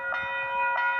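Bell at a railroad crossing signal ringing, two struck rings with sustained metallic overtones in about one second, close and steady.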